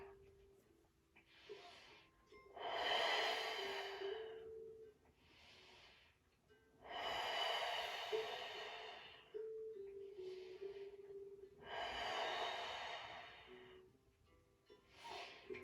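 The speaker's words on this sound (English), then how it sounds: "Continue your deep breathing." Slow, deep breaths during a seated forward fold stretch in a chair, each long airy inhale or exhale swelling and fading in a steady cycle of roughly four seconds, soft and close.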